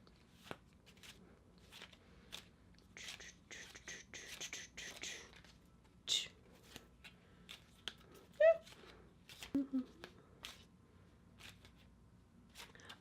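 A deck of cards being shuffled by hand at a table, with soft riffling bursts and scattered taps and clicks, quiet and close, mixed with faint rustling.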